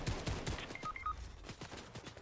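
Gunfire in a Fortnite match, a dense run of rapid, fairly faint shots cracking in quick succession, with small electronic game tones in between.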